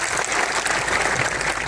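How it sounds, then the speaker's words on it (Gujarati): A rally crowd claps loudly and continuously, a dense unbroken wall of applause from start to finish with no voices on top. "આજે આ મંચ પરથી એમના માટે જોરદાર તાળીઓ પાડી લો."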